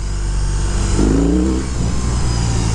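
A 2022 BMW R18 1800cc cruiser motorcycle engine running with a steady low rumble heard close up, a brief rise in revs midway before settling back to a continuous throaty drone.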